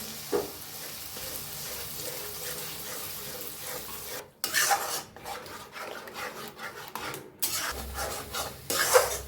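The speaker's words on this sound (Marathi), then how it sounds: "बघा असं सतत हलवत राहायचं" A spiced bhurgi mixture with turmeric, coriander powder and red chilli is stirred continuously in a pan, giving a steady close rasping and scraping sizzle with short bursts of louder scraping strokes.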